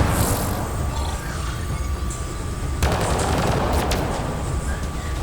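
Continuous combat gunfire from Mass Effect Andromeda crackles without pause, dense rapid shots with a few sharper cracks standing out, loud and close over a noisy battle backdrop.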